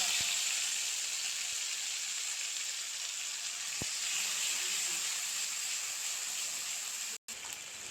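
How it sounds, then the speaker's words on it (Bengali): Puffed rice tipped into oil left over from frying potatoes, giving a steady, close hiss and sizzle that holds evenly throughout with a few faint clicks and a brief cut near the end. "এখন আলু ভাজির তেলে দিয়ে দেব গোয়া মুড়ি।"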